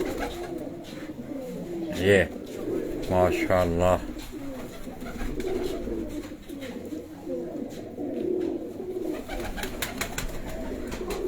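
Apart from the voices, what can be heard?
Sialkoti pigeons cooing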